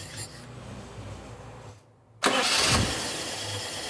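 A Toyota Kijang Krista engine being tuned for easier starting cranks briefly, goes quiet for a moment, then catches with a loud burst and settles into a steady close idle.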